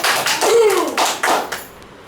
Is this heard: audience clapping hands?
yes